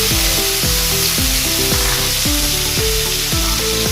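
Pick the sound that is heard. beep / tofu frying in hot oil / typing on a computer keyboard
tofu frying in hot oil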